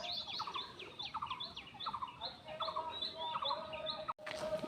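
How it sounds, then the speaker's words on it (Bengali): Birds call repeatedly in a rural village, a string of bright chirping phrases spaced a fraction of a second apart over a soft outdoor background, with a short break near the end. "কি পাখি ডাকে"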